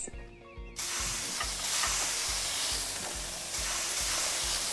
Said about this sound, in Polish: Smaży się?